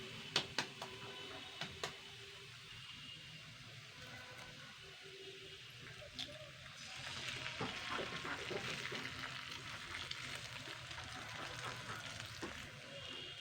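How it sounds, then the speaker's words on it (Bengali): An egg frying in a pan alongside potatoes gives a steady low sizzle with scattered ticks and pops, swelling louder and denser about halfway through, with no talking. "এবার আমি এর মধ্যে একটা ডিম ফাটিয়ে দেবো।"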